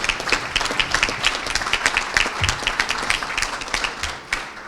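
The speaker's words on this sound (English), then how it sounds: "it's worth clapping for" Delegates at a union assembly clap continuously in a lively, slightly uneven rhythm, individual hand claps standing out within the steady applause.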